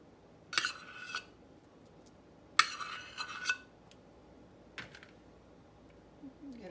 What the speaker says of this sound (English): So now we're going to add our 1 cup of lard.